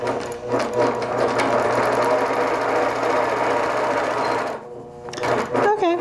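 An electric sewing machine stitches a tree wall-hanging, running in a loud steady whirring hum for several seconds, then pausing briefly before starting up again.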